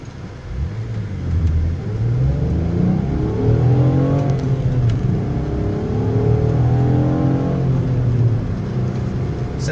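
Car engine accelerating hard on a test drive, a steady rising and falling roar of revs heard from inside the cabin, loud and continuous over road rumble, with no voices.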